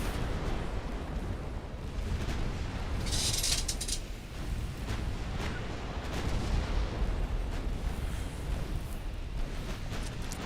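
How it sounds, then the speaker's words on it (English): Battleship main guns firing in the naval game Ultimate Admiral Dreadnoughts, deep rumbling booms over a constant heavy roar of battle, loud and dense with one sharper crack early on. "the main guns are going to keep going after the battleship"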